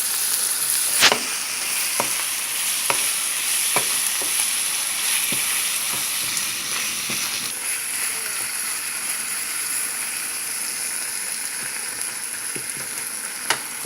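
Blue crab with onions and oyster sauce stir-frying in a pan during a rainstorm, giving a steady broad sizzle with several sharp scraping knocks early on, fairly close, with no talking.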